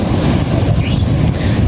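Ocean waves and wind on the southern sea coast, a loud, steady roar of surf with heavy wind buffeting the microphone throughout.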